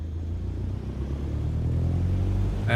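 Aircraft engine in Microsoft Flight Simulator throttling up, a steady low droning rumble that slowly grows louder and rises slightly in pitch over a few seconds, with no talk.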